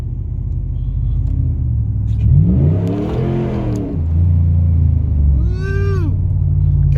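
A 2016 Ram 1500 with a Hemi engine and an aftermarket tune revs up and down while driving, a loud close rumble that rises and falls through two surges, alone without talk.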